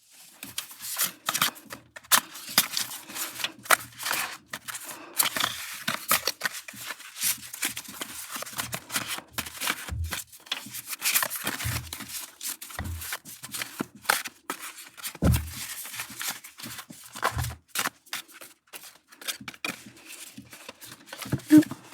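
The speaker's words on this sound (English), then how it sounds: "So let me do some ASMR shuffling" A deck of Inspired by Frida cards being shuffled by hand, with repeated crisp riffling bursts and soft slaps of the cards settling, close and fairly quiet, in an otherwise silent room.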